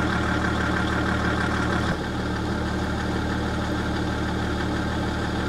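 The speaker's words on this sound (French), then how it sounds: "vous allez écouter le bruit du moteur avant" A BMW 330D diesel engine idles after a fault has been cleared, giving a steady, close, continuous rumble with a brief dip near the start and no talking.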